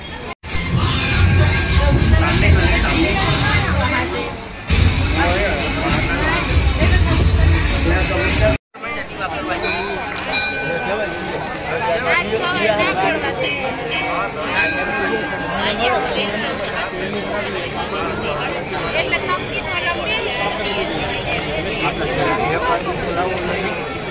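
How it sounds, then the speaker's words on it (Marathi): Evening crowd at Mahakaleshwar temple in Ujjain around the 7 pm lamp lighting: loud, continuous hubbub of many voices and chatter close by, with a brief dropout partway before the busy murmur resumes. "ही जी गर्दी आहे ही रोज संध्याकाळी 7 वाजता तुम्हाला इथे पाहायला मिळेल"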